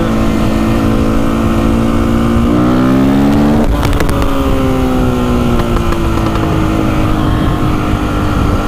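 Loud, close engine of a Husqvarna 510 SMR motorcycle during an overtake, its pitch climbing through the gears with a sharp shift mid-pass, then settling into a steady high drone.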